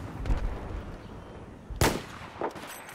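Gunfire in Battlefield 4 on PS4: three sharp shots crack out at uneven intervals, the middle one loudest, over faint background battle noise.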